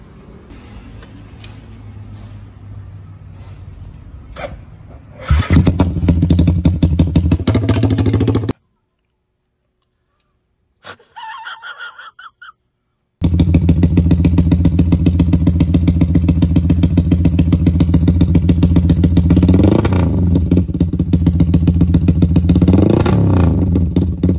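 A motorcycle with an aftermarket GL exhaust idles roughly, then roars loudly with repeated revs and a deep throaty exhaust note, broken by a brief silence and a short burst.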